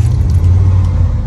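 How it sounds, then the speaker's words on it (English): A 1977 Ford F350 truck engine cold-starting: a loud, close, steady low rumble with a light metallic jingle of keys over it, brief and continuous. "Okay, this is a cold start."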